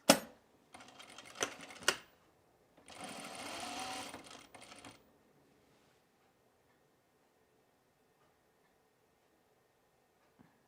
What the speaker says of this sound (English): So let's just sew that first so we don't lose our marks.